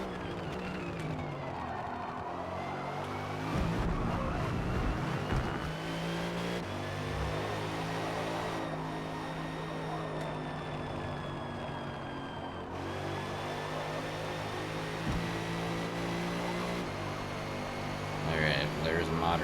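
Race car engine in the Forza Motorsport game, revving and shifting through gears with a buzzing, rising and falling note and some tyre noise, continuous and fairly loud, with someone talking over it.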